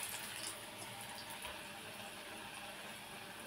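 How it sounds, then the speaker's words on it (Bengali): Pakora batter balls dropped into hot oil, frying with a steady broadband sizzle and bubbling hiss that stays constant throughout, close and moderately quiet, with no talk. "এই গোল করে নিয়ে গরম তেলে ছেড়ে দেয়া"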